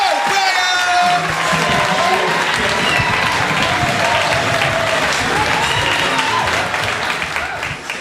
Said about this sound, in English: Jules O'Brien is next, so you're going to start the round of applause, Keenan.